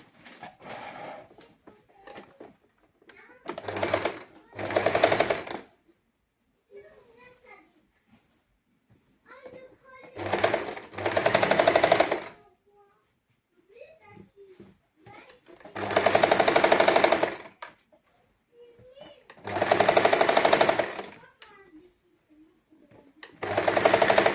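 A sewing machine stitches a sari blouse sleeve in five loud, rhythmic bursts of a few seconds each, separated by quiet pauses in which someone talks softly.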